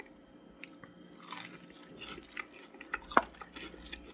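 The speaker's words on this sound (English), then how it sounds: "hear that crunch?" Crisp crunching bites of a fried snack up close, with a few sharp cracks among softer munching and faint clinks of utensils.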